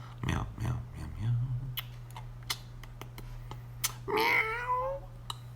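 A man imitates a cat with a string of meows, a few nasal voiced calls close to the mic, the last one longer and wavering, with scattered ticks and clicks around them.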